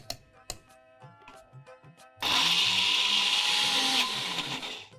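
After a few soft clicks and taps, a mixer grinder roars on loudly for a couple of seconds, whirring and grinding lentils and onion coarsely before winding down.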